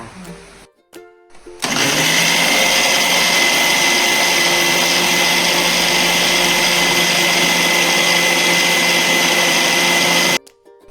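Electric mixer grinder blending a paste with tamarind water, starting after a few brief clicks and then running as a loud, steady whirring drone for about nine seconds before cutting off.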